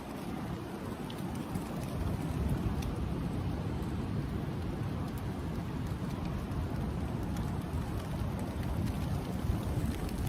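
Steady rain falls outdoors in a woodland camp where a lean-to shelter is being built, a dense, even hiss of drops on leaves and ground that continues without a break throughout.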